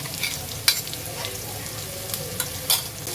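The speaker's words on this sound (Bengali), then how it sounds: "এটাকে এখন একটু নাড়াচাড়া দিব তেলের সাথে, একটু ভালো করে হওয়াই নিব।" Blended dried fish paste being stirred in hot oil in a pan, a steady soft sizzle with a few scraping strokes of the spoon at irregular intervals, close and fairly loud.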